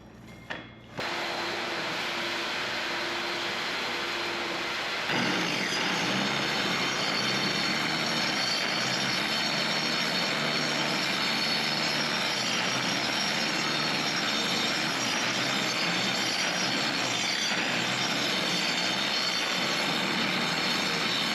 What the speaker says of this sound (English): Now I'm gonna put my 30 grit 12 segment so you guys can see how easy to remove the scratches with your 30 grit ceramic.